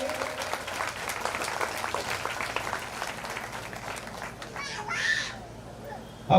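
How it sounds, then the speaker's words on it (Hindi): An outdoor audience at a village Ramayan festival prize ceremony applauds a rangoli contest winner, with sustained, dense clapping from a crowd, with birds and children audible faintly behind. "एक बार जोरदार ताली बजाएंगे।"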